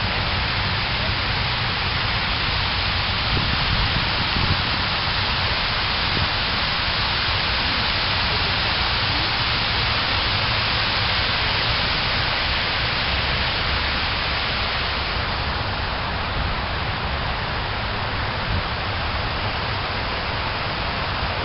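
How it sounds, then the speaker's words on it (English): A waterfall gives a steady, loud rushing roar that holds evenly throughout with no break, and no voices can be heard over it. "the sound of the waterfall is beautiful"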